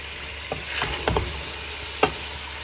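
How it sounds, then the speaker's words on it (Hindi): Chicken pieces sizzle and fry in hot oil inside a pressure cooker, a steady crackling hiss broken by a few sharper pops and stirring scrapes, close and moderately loud with no voices. "उसी ऑयल में चिकन डाल दिए। ये देखो गरम गरम ऑयल था, वो मैंने कुकर में शिफ्ट किया। इसमें मैंने चिकन डाल दी।"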